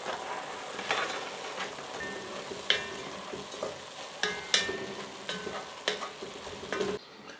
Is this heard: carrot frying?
yes